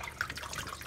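Tap water runs over lettuce leaves as they are rinsed in a sink, a steady close splashing stream with small irregular spatters and no voices.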